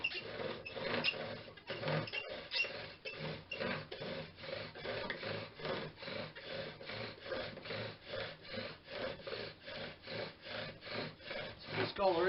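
Bow drill spinning a maple spindle on a pine hearth board, a rhythmic back-and-forth wooden grinding and squeaking with about two strokes per second, close and fairly quiet, steady throughout.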